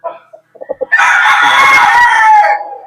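Broodstag gamefowl rooster crowing on a game farm: a few short clucks lead into one loud, close, drawn-out crow lasting about two seconds.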